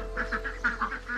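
Ducks on a farm in Vieques, Puerto Rico give a run of close, fairly loud nasal quacks in a quick uneven rhythm, with a steady low hum in the background.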